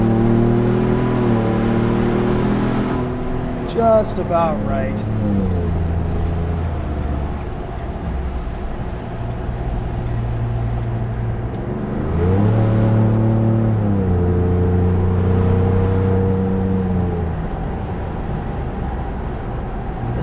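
A Ford Bronco with the 2.7L V6 EcoBoost and MRT axle-back exhaust drives on, its low, throaty engine note rising and falling through several revs and gear changes, loud and close, with a brief voice partway through.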